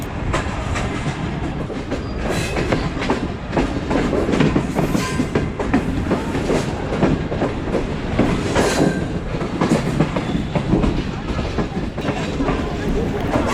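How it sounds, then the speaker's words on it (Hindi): The Allama Iqbal Express, a passenger train running from Sialkot to Lahore, rolls into Narang station as it approaches its stop, a steady loud rumble of wheels and carriages with rhythmic clatter and occasional squeal, close and continuous throughout. "लामा इकबाल एक्सप्रेस नारंग में एंटर हो चुकी है और नारंग स्टेशन पे स्टॉप"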